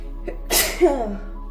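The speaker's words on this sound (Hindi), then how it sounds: "छींक आ गई मुझे।" A single close sneeze, a short sharp burst followed by a breathy tail, occurs against quiet room tone with no talking.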